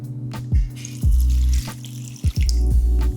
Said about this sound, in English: And then 3/4 cup of warm water.